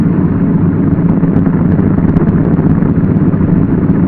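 A Douglas DC-3 aircraft engine idles at around 600 to 800 RPM, giving a steady, loud, rumbling hum that holds an even level throughout without any talk.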